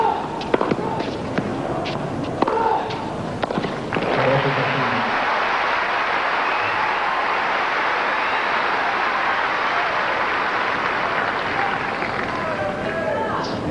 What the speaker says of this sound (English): You can still hear the roars of the crowd from Rod Laver.